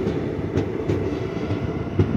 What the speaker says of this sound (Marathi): परत आता गाडीने स्पीड घ्यायला सुरुवात केलेली आहे.